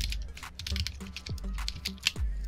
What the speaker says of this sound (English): Now let's type a new mail.